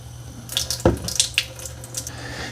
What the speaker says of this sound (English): let's add some water to the water tank now.